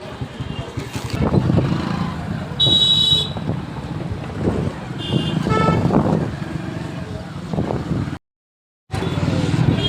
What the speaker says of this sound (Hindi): traffic traffic traffic